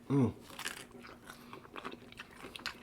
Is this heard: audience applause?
no